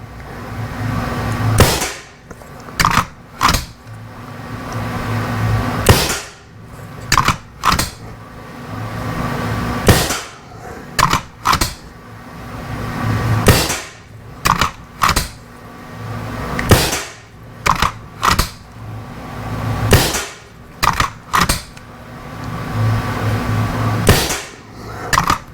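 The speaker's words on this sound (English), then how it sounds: "this is damn sure a Skout Epoch that I'm shooting, and I'm shooting 55 grain 30 caliber slugs" A Skout Epoch air rifle firing 55 grain .30 caliber slugs, with a long string of sharp, loud close-range shots in irregular bursts, several evenly spaced cracks and the hum of the surroundings between them, and no talking.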